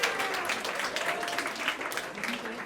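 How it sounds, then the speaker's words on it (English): Steady, dense applause from a hypnotist show audience at Fairleigh Dickinson University fills the whole stretch at a loud, even level, with faint voices mixed in. "Give them a round of applause"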